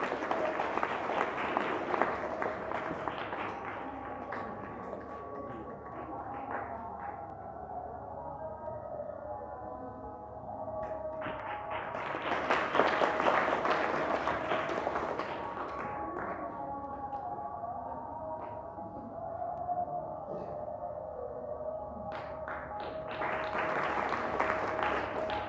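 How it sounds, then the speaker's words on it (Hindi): Audience applause at a book launch ceremony comes in several bursts of clapping, swelling loudly and fading back between rounds, with a quieter background hum in the pauses. "ताली बजती रहनी चाहिए।"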